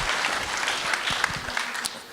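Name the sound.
audience applause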